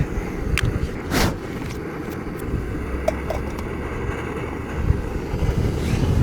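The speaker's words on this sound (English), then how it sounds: "So the wind blew my Mountain House meal over." Wind gusting outdoors at a lakeside camp overlook, a steady broadband rush buffeting the microphone with a few stronger gusts, no talking.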